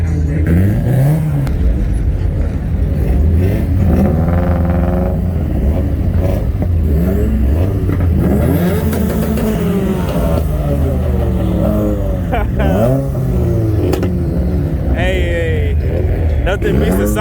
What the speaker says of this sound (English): Nothing beats the sound of a Subi